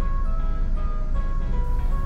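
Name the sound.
beep after passing the start line in a driving test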